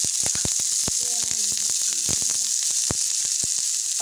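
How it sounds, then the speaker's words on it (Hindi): Loud, steady sizzling of onions frying in hot oil as a tempering for kadhi, with occasional stirring clicks and a brief faint voice in the background. "अब हम डालेंगे इसमें प्याज का तड़का"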